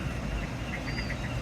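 Geese by a brook give a quick run of nasal, honking calls, several short notes in a row at moderate distance over low background noise.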